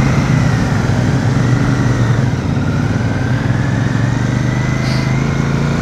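Royal Enfield Super Meteor 650 cruiser motorcycle with a 648 cc engine during a road test ride, a steady loud engine drone and wind rush continuing throughout without pause.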